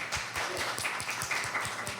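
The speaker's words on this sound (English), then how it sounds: "If you would still love them, clap." Audience at a talk on relationships and Black mental health clapping together, a fairly soft, slightly irregular run of about a dozen claps heard alone.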